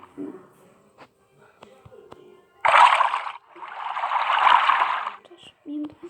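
Rushing, sloshing water from rising water in the game Blockman Go, two loud broadband surges a few seconds long, with brief game noises and a voice in between.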